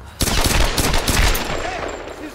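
Loud close gunshots in the video game Tomb Raider, a fast automatic burst of heavy cracks that begins suddenly, then trails into echoing decay.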